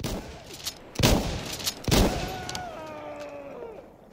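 Shotgun fire from the hip in Insurgency Sandstorm: two loud, booming blasts about a second apart, each with a ringing tail, following a few lighter distant shots.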